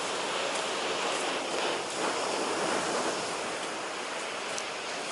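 Stormy sea surf at Zelenogradsk churns in a steady, loud roar of breaking waves, with strong wind buffeting the microphone throughout and no voices.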